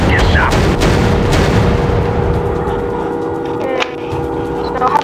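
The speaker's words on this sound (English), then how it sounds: "Führen Sie das Flugzeug jetzt sanft über ein Ziel und befehlen Sie der Mannschaft, die Bomben abzuwerfen" Bombs dropped from a bomber explode below in a WW2 German warplane flight game. Heavy, continuous rumbling booms blend with loud engine drone, followed by a sharp thump near the end.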